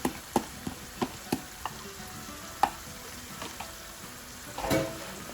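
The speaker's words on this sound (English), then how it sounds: "I'm going to add my tomato and the masala paste." Tomato and masala paste fry in a hot pan for aloo pyaaz paneer subzi, a soft, steady sizzle broken by sharp clacks of a spoon against the pan, close and quiet, with a slightly louder scraping stir near the end.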